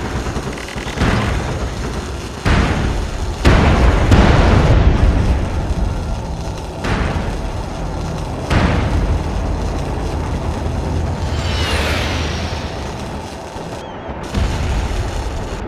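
Heavy mortar explosions thud repeatedly in a large-scale online war game, a string of loud, deep booms spaced a second or two apart over constant battlefield rumble.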